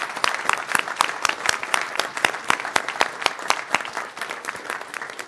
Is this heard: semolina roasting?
no